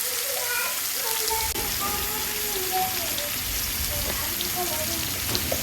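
Vegetables frying with salt and turmeric for a potato, cauliflower and pea fish curry, a continuous rain-like sizzle with occasional stirring scrapes and faint background tones, no speech.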